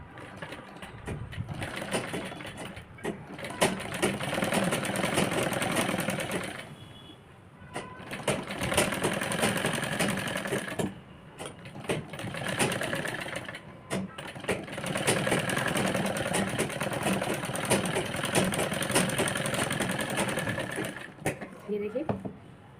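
Electric sewing machine stitching a second seam over a fold on a crop top, running in long steady bursts with brief pauses between them, close and fairly loud, with someone speaking between the runs.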